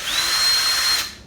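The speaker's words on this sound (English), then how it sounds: "And also I have my drill" An electric drill whirs at high speed in one short, steady burst lasting about a second, close and loud, then spins down and cuts off.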